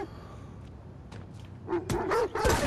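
Dogs barking in the video game Necromunda: Hired Gun, a few sharp yelps and barks rising near the end over a low ambient game background.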